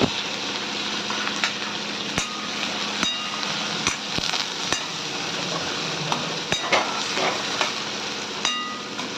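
Garlic, onion and green chilli frying in hot oil in a kadhai, giving a steady close sizzle with occasional sharp clinks and scrapes of a spatula stirring.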